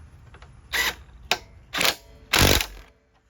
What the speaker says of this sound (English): And then we tighten the bolt down from the back side.